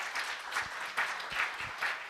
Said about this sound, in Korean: 여러분 박수를 보내주시기 바랍니다.